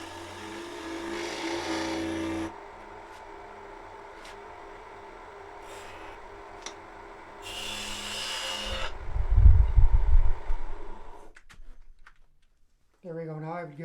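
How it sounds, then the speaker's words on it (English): Sandpaper rubs a small wooden snowman spinning on a woodturning lathe, in bursts of dry rasping over the motor's steady hum, with a louder scuffing stretch near the end and a voice talking briefly. "just give this a quick sanding."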